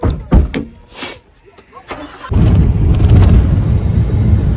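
A car engine catches after a few knocks and muffled voices, then settles into a loud, steady rumble as the car moves off and keeps driving.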